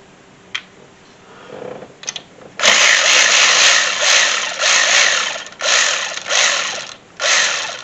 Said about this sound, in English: I'm going to remove these 2 10 millimeter nuts right there.